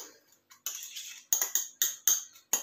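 Breakfast batter is beaten in a bowl with a run of quick, sharp metallic clinks, coming in bursts that grow steadier and more rhythmic, close up and with no talk.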